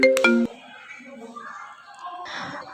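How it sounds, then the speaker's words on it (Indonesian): A mobile phone ringtone in a school drama performance sounds as a brief, loud melodic chime for about half a second, then cuts off as people start talking. "Kalimat Sagara terpotong dengan dering telepon miliknya."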